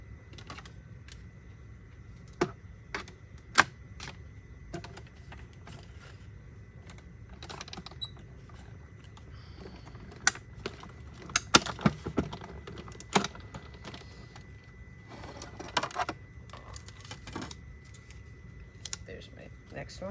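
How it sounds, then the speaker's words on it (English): A die-cutting machine runs paper card through for a waterfall card, giving a series of sharp mechanical clicks and clacks scattered over a low background hum, heard up close. "I'm going to grab this die right here. Bring in my machine."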